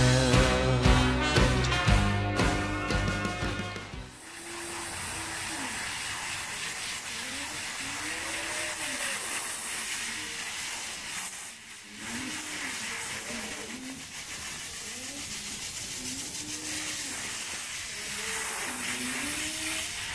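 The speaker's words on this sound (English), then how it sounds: "We're using the air compressor to blow some of the dirt off of Aslan" Compressed air hisses steadily from an air compressor nozzle as dirt is blown out of an alpaca's fleece before shearing, a broad continuous rushing that runs for most of the stretch after a brief burst of music at the start.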